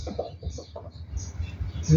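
A rooster clucks in short repeated bursts at moderate distance, with faint background noise and a brief higher call at the end.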